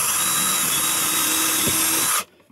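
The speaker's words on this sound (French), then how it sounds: "Le premier trou, je perce de part en part." A power drill bores a small hole straight through a wooden batten, a steady high whine running close and loud for about two seconds before stopping abruptly.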